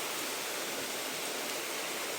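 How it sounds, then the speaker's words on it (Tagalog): Very heavy rain soaks garden plants during the rainy season, a dense, even hiss that stays loud and constant without pause or talk. "Sobrang lakas ng ulan."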